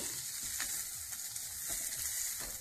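Mashed bean bharta with coriander is stirred in a pan, making a faint continuous sizzle with soft, repeated scraping strokes of a spoon.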